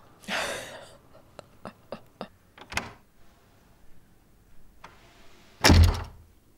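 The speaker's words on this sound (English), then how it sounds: "he slammed the door." A door slams shut in a film scene, one loud heavy thud near the end after a stretch of quieter knocks and faint rustling, with no voices over it.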